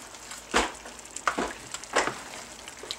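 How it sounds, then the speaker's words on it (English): A pineapple coconut curry is stirred in a pan, giving a simmering sizzle broken by three or four wet, scraping swirls of the spoon, close up and moderately loud. "I'm going to stir that up and see how the color looks and see how the taste is"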